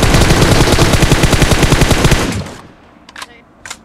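Sustained spray of automatic gunfire from PUBG on the Erangel map, a loud rapid burst of evenly spaced shots for over two seconds that cuts off, followed by a couple of faint distant cracks.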